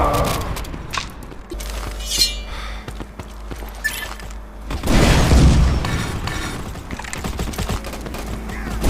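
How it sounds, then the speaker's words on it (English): Flashbang grenade going off in the mobile shooter Modern Ops on a construction site map, a sharp burst partway through amid clattering game effects and gunfire. "Grenade! Throwing flash!"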